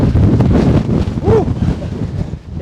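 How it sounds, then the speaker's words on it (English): Strong wind on a mountain ridge buffets the microphone in loud, continuous low rumbling gusts, steady throughout with a brief lull near the end. "so it's really windy. We've got a really windy bit."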